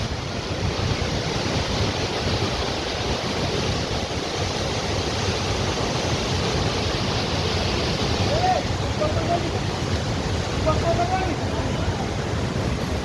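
Water rushes loudly at the source of the Saraswati river in Mana village, a constant broadband roar with wind buffeting the microphone and faint voices buried underneath.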